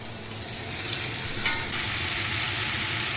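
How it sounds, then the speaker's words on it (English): Beef chunks sear in a crowded braising pot, a steady loud hiss and crackle of hot fat sustained throughout at close range, with no talking. "Stick the damn meat in the pot."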